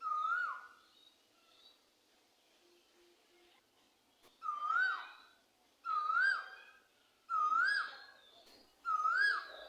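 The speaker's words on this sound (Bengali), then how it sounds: "একটা কোকিল কিভাবে ডাকতেছে।" An Asian koel's rising, two-note whistled call repeats about five times with short pauses, clear and fairly close in a quiet setting.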